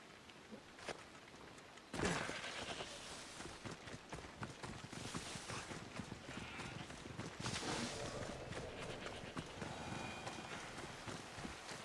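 In the video game Assassin's Creed Odyssey, a horse's hooves break into a quick gallop after a quiet start, the rhythmic clip-clop running steadily and fairly close for about ten seconds.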